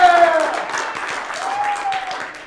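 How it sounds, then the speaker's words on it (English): Audience applause for student performers at a benefit concert, a short burst of clapping with a voice or tonal sounds running through it, fairly close and full. "let's give all of the students a big round of applause who are going to perform tonight"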